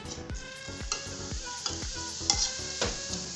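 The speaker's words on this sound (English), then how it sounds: "Now we are going to put in the garlic," Garlic fries in oil in a pan, with a steady sizzle under repeated scraping stir strokes that come roughly twice a second, close and moderately loud, with no talk.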